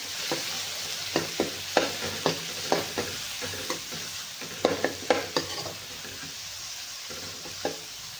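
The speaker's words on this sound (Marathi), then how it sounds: "मसाला आणि टोमॅटो सुद्धा त्यातच टाकून घ्यायचं आपल्याला आणि सगळं परतून घ्यायचंय" Spice masala and tomato sauté together in a pan for a bitter gourd dish, a soft sizzle under regular spatula scrapes and taps, close and moderately quiet, with no talking.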